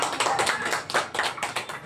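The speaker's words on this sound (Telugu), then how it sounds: "చప్పట్లు కొట్టాలి ఒక్కసారి గట్టిగా." An audience at a village prize-giving ceremony claps in a brisk, uneven patter of hands, close and moderately loud, with no talking over it.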